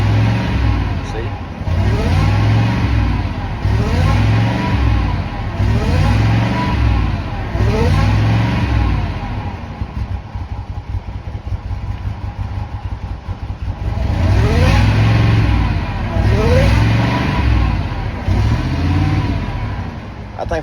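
A car engine runs throughout, close and loud, rising in repeated revs that swell and fall back every second or two, with a voice speaking over it at times.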